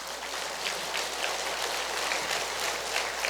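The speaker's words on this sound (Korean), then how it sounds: "박수 한번 치세요." A congregation applauds at a Catholic Pentecost Holy Spirit retreat lecture, a soft, even, rain-like patter of many hands clapping at moderate distance, heard alone without speech.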